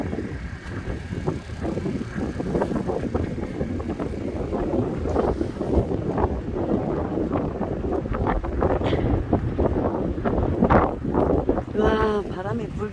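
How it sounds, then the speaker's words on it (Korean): Strong seaside wind at Guryongpo Homigot buffets the microphone in a constant loud rumble, with waves faintly behind it and a person speaking briefly near the end. "와, 바람이 불기는 많이 분다."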